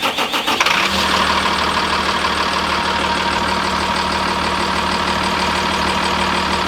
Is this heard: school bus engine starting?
yes